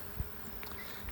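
A brief, low buzz of honeybees at a hive droning softly, close by and steady, early in the morning.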